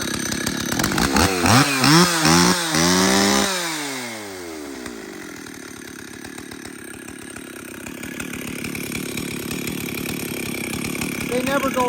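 Chainsaw with a freshly tightened chain, revving up loudly then settling into a steady, close idle-like drone while someone speaks over it.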